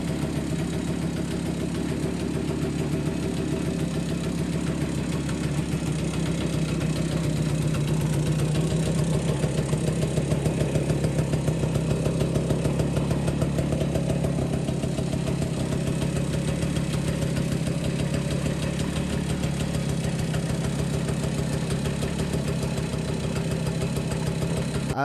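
A 1935 DKW SB200 motorcycle engine runs steadily at idle for the whole stretch, a continuous close, even putter with a rapid regular pulse and no voices.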